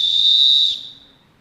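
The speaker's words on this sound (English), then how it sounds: "Let me use my whistle." A single long, loud, steady whistle blast held for about three-quarters of a second, then trailing away into quiet room tone, used to signal a pause in a game during a sports officiating demonstration.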